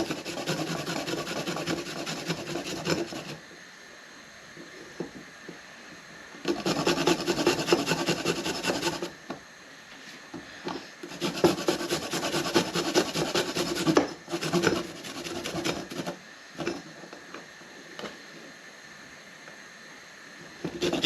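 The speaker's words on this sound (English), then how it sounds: "I'm just going to grate in the 3 cloves of garlic" Three garlic cloves rasped against a grater for cheat's pork rarebit, steady scraping strokes in several long bursts with brief pauses between, close and fairly loud with no talking.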